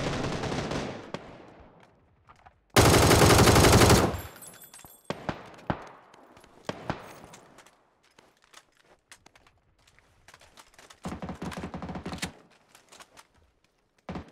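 Gunfire rattles across Sanhok in PUBG: a loud sustained automatic burst, scattered single shots, then another long volley, with quiet gaps between.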